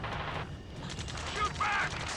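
Gunfire rattles through the Ace Combat 7 video game as a dense, continuous fusillade under layered battle noise, with voices talking over it.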